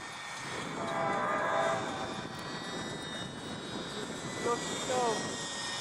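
A small UMX Pitts RC plane flies past, its electric motor giving a steady, moderately loud whine that holds through the clip, with brief pitch sweeps near the end as it passes.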